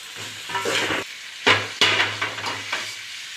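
Onions and tomatoes sauté in a pan as the base for a hill crab gravy. A soft sizzle runs underneath while a spoon scrapes and stirs in uneven bursts, with a few sharper clanks against the pan, close and moderately loud.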